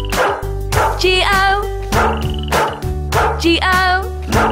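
Cartoonish dog barks woven into a sung children's nursery rhyme about a farmer's dog, repeated bouncy woofs over a steady musical accompaniment with a sung melody.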